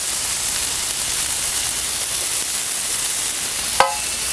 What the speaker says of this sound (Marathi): तर आता आपण ह्यामध्ये घालूया बारीक चिरलेला कांदा